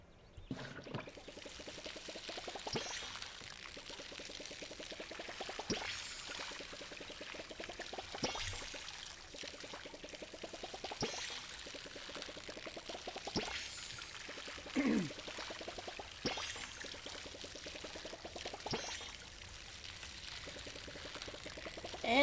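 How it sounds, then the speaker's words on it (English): Watering a garden from a watering tin in the Palia video game: soft, repeated pouring and trickling water strokes recurring every few seconds, quiet and gentle with no talk. "And water our little garden."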